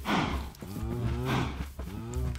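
Cows mooing close by on a farm, several long, loud, drawn-out lows following one another with brief gaps between them.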